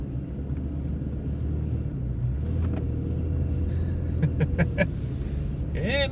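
A 2023 Toyota Tacoma V6 pickup climbs back up a slope, its engine a low steady rumble inside the cab, with a few light clicks and a rising whine toward the end.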